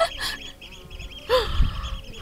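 Birds call near a river, with goose-like honks and quacking bursts, one loud cluster near the start and another around the middle over a low outdoor background.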